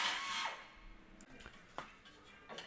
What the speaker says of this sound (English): After drilling 4 holes in the bought not built bracket